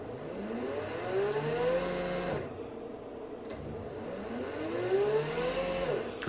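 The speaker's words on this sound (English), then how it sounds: "when I'm changing direction, so you have a delay, and then the motor starts again" A brushless DC motor under throttle control spins up with a rising whine, cuts out briefly after a direction change, then ramps up again, with no speech.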